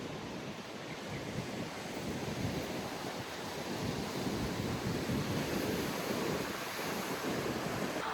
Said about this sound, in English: It was really rough, crashing into the bottom of the cliffs.